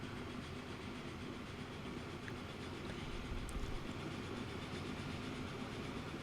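An ore train in a transport video game rolls across a large bridge, a steady continuous rumble with faint clicks, fairly quiet and uninterrupted, with no talk.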